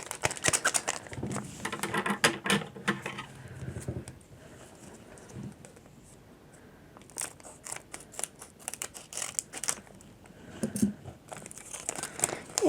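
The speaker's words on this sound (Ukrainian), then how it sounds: "Всі інші пакетики відкриємо вже разом з вами." Close crinkling and tearing of Winx trading card packets comes in bursts, with a quiet pause in the middle before more rustling resumes.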